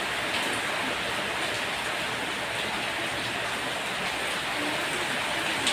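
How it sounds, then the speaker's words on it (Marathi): Steady, dense hiss of rain falling without a break, a broad even wash of noise with no voices over it. "इतका पाऊस चालू आहे आता"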